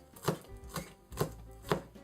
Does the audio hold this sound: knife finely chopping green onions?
yes